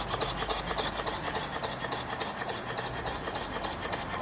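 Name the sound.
small old steam engine running on steam from boiler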